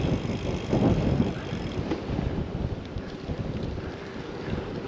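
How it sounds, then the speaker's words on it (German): Strong wind buffets the microphone on a gravel bike ride, a continuous loud rumbling roar with gusts swelling and easing, with no talk. "Und richtig windig."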